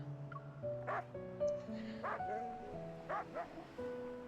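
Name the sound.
dog barking in video game Love and Deepspace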